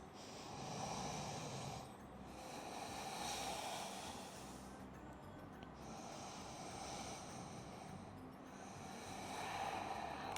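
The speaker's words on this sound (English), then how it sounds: "Let's take 3 breaths." Slow, deep yoga breathing during a hip-opening flow: soft, airy inhales and exhales in long, even cycles, each lasting a few seconds with brief pauses between, close and quiet.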